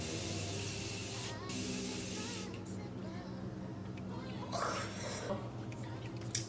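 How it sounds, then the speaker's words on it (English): Morphe Setting Mist sprays in a few quick bursts, soft close hisses over faint background hum and low voice. "I'm going to take the Morphe Setting Mist"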